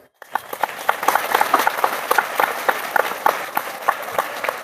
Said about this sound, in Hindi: एक बार ताली बजाइए जरा।